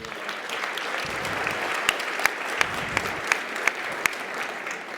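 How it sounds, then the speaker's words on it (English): Sustained applause from a large audience at a Day 3 conference keynote, a steady dense wash of clapping lasting throughout with a few sharper individual claps standing out near the microphone. "So give yourselves a round of applause."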